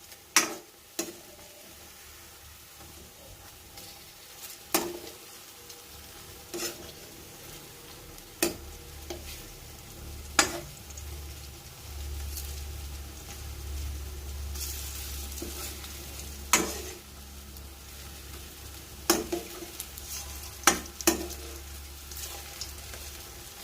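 Arbi (taro) leaf pakoras fry in mustard oil with a steady, soft sizzle, broken by sharp clinks and scrapes of stirring at irregular intervals; no one speaks.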